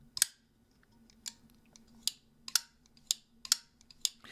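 Holt Bladeworks Morpheus pocketknife with a dark-finished blade, its action worked repeatedly to give sharp, close clacks at an irregular pace, about eight crisp snaps spread over a few seconds with a faint hum beneath.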